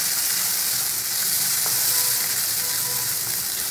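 A frying pan mixture with turmeric powder stirred in, sizzling in a steady, loud, close hiss throughout, with faint scrapes of stirring and no voices.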